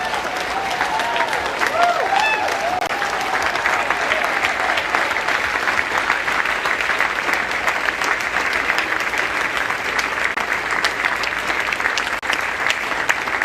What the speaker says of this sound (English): Standing ovation for our law enforcement.